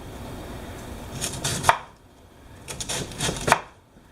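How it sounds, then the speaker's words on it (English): A knife cuts a cored vegetable into pieces on a cutting board in two short bursts of rapid chopping, each ending in a sharp thud against the board. The sound is close and clear, with no talking. "cut it into pieces."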